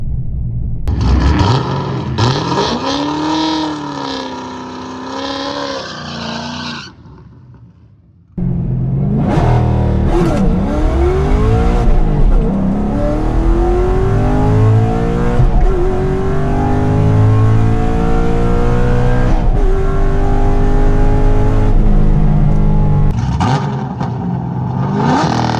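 A twin turbo Camaro race car accelerates hard on a drag strip, its engine roaring loudly and climbing through the gears in long rising sweeps, with a brief drop before a second sustained, very loud pull.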